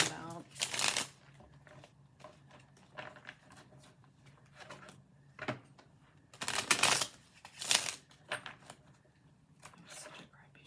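A deck of tarot cards is riffled and shuffled by hand in several quick bursts of papery flutter, separated by quieter pauses, up close in a calm room.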